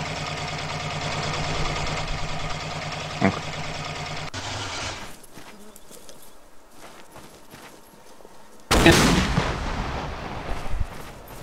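A rocket fired at a BRDM armored vehicle in the Arma 2 military game: an engine idles steadily, a sharp launch blast cuts in, then a quieter stretch before a loud close explosion with crackling debris, voices chattering underneath.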